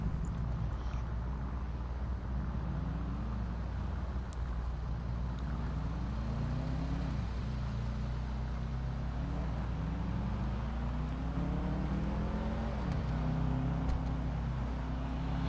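A car engine runs steadily while driving, a constant low drone whose pitch climbs and drops repeatedly as the vehicle accelerates and shifts, with road noise continuing throughout.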